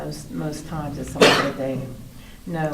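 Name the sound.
sneeze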